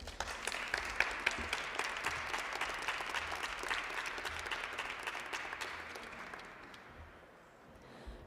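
An audience at a press event breaks into loud, steady applause for a speaker, many hands clapping close by, then thinning and fading out toward the end.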